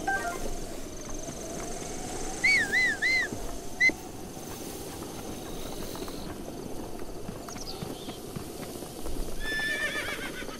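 Rhythmic clip-clop of horse hooves in Zelda: Breath of the Wild over a steady background hum, with a few short whinnying chirps and synthetic game tones layered in.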